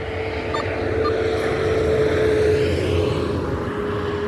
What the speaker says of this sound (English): Sorry about the noise. We are 25 yards from a highway.